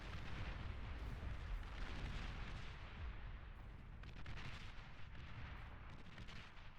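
Continuous rumbling artillery barrage from a Beyond All Reason 8v8 strategy game on the Rosetta map, with dense overlapping booms and bursts sustained throughout at a steady loud level, no voices.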